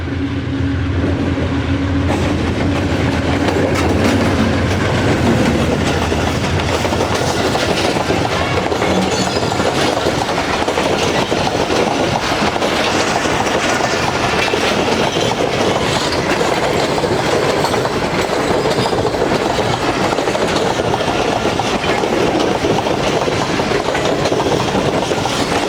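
A nonstop express train rushes through Chanesar Halt station in Karachi, a loud, continuous roar of wheels and carriages with steady clickety-clack filling the whole stretch, no voices over it.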